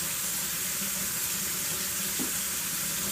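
Tap water runs steadily over postwar F3 frame restoration parts being rinsed at a sink, a constant close hiss and splash with no talk.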